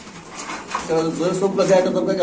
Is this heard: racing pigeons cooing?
yes